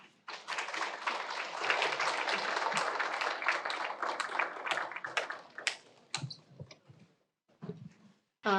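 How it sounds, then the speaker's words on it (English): Sustained audience applause fills an anniversary global forum hall after a keynote speech, dense and steady for several seconds before thinning into scattered claps and faint murmurs. "Let's give him another round of applause"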